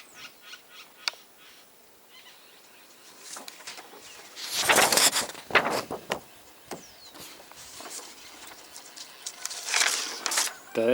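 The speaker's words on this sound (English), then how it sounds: "birds be everywhere." Birds call outdoors in the open air, scattered honking and chattering cries coming in bursts, loudest in two clusters, over a faint windy background.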